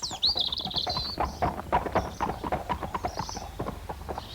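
Tinker the horse walks on foot, led by hand, with a steady run of close clip-clopping hoofbeats. A whinny sounds at the start and a bird chirps faintly in the background.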